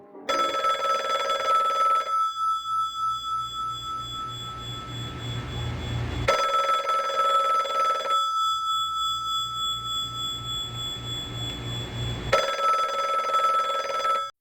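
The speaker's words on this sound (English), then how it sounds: "suddenly the telephone rang" An old-style telephone bell ringing in a holiday suspense tale, three long trilling rings about six seconds apart, loud and alone with a steady hum between them.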